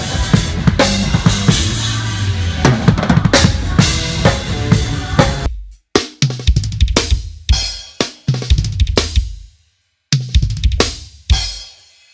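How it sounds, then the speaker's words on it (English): A fast, dense drum fill built on a drum rudiment, played on a full kit, rapid strokes across snare and toms with cymbals, loud and close, broken by short pauses. "where Calvin revealed his secret rudiment, the stuff he always uses to blow our mind"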